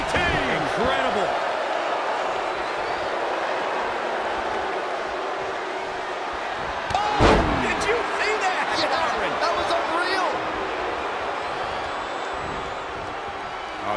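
A wrestler driven onto the mat with a DDT in WWE 2K20, a single sharp slam landing partway through over steady arena crowd noise, with commentary running throughout.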